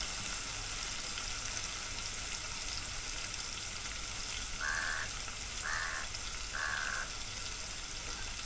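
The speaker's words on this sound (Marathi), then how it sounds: "फुकटचा कावल्याचा आवाज कशाला आपल्या ब्लॉगमध्ये?" Three distinct caws from a crow ring out a short distance away, evenly spaced about a second apart, over a steady hiss of frying or sizzling cooking in the foreground.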